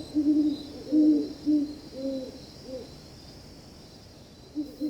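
Deep, soft owl hoots in short repeated phrases, two birds trading calls back and forth at a moderate distance against a quiet background hiss.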